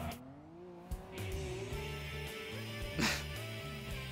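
A car in the racing video game TXR3 snaps into oversteer, its engine droning and stepping through pitch changes before a sharp burst of tire squeal near the end, loud and close with no talking.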